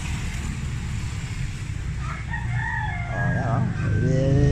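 A fighting rooster being readied for sparring crows nearby, its long wavering call rising over a low rumble of engine or background noise.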